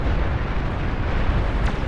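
Bombs blast in the real-time strategy game Beyond All Reason, a dense, rumbling run of overlapping explosions that roars loud and continuous for a couple of seconds with no talking.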